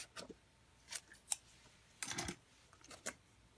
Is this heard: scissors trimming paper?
yes